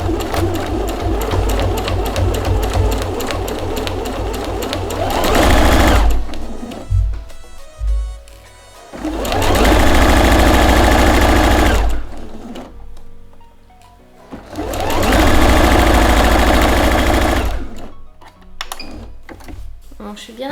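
A sewing machine runs in three long, loud bursts through layered fabric for a homemade knitting-needle case, with a low motor hum and pauses where fabric is shifted.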